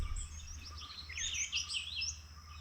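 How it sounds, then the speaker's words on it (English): Several birds chirp and call at a distance in quick, varied phrases over a low steady rumble of background noise, in the Western Ghats. "I'm hearing quite a few birds."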